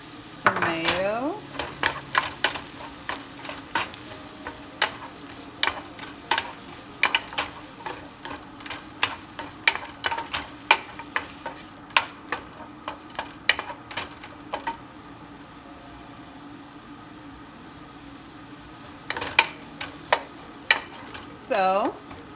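Onions and tomato fry in a pan with steady sizzling, punctuated by frequent sharp scrapes and clacks of stirring that cluster at the start and again near the end, with a quieter stretch of sizzle in between.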